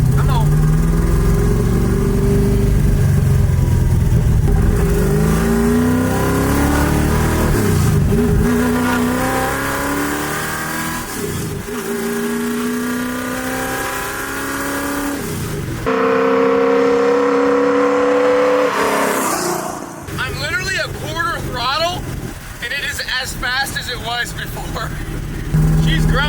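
A 1965 Mustang V8 fitted with a tunnel ram revs hard, its loud engine climbing and falling through repeated throttle blips and a sharp burst near the end, with people talking over it.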